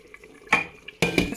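Boiled yam and its cooking water poured back into a pot in an African home kitchen, two short splashing bursts with metallic clatter, separated by a brief quiet gap.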